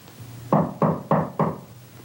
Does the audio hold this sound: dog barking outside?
no